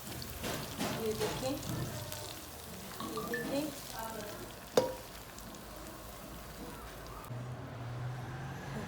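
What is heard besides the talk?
hot tadka poured over rice, sizzling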